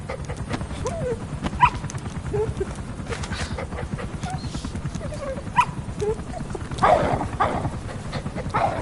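A dog in the video game Metal Gear Solid V whimpers and yips amid soft footsteps, with game sounds and occasional talk around it.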